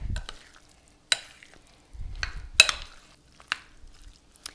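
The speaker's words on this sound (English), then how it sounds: "We're gonna give it a quick stir." A broccoli salad given a quick stir with a spoon in a bowl, a few brief scraping clicks and soft squishy rustles spaced out over a few seconds, close by.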